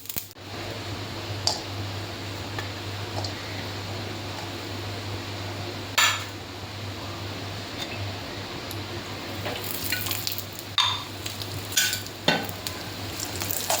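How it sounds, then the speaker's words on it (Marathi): Niger seeds crackle and rustle as they dry-roast in a pan, stirred with occasional sharp scrapes and clinks over a low, steady hum. "पहिले कढईमध्ये तेल टाकायच्या आधी आपण खुरासनी सुक्की भाजून घ्यायची आहे"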